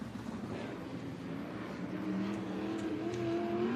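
Dirt track race cars at Bakersfield Speedway during heat races, engine drone rising in pitch as cars accelerate at a distance, steady and moderately loud, with no voices.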